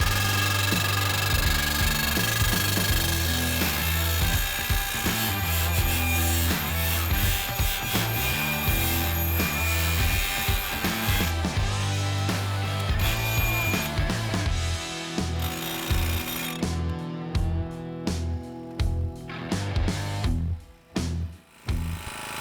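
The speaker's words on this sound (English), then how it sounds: "Would you like to see us drive this post on the ground?" A Redidriver pro-grade fence post driver pounds a post into the ground, starting as a loud continuous engine roar with a rapid hammering that breaks into distinct separate strikes near the end.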